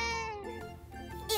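A domestic cat gives a single short meow, close and fairly quiet, a harmonic cry with a brief rise at the end.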